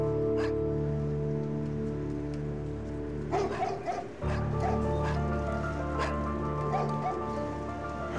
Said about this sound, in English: So I could clearly hear dogs inside the address